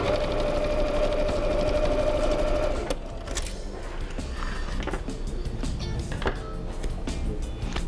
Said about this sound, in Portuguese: Vou passar uma costura. Sempre dando retrocesso no começo e no final.